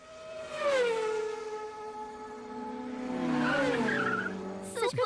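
A voice imitates car and bike racing, producing one long sustained engine-like whine with a tire-squeal quality that bends in pitch and ends in a short burst, close and steady.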